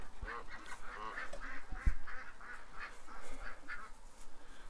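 A backyard flock of ducks quacks in a rapid rhythmic series of nasal calls, moderately close, with light background noise and no talking.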